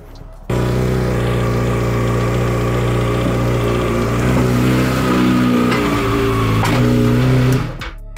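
A motorcycle engine fitted with a quieter exhaust insert starts up and settles into a steady, close, low idle with a faint rise in revs, running alone for about seven seconds before cutting off.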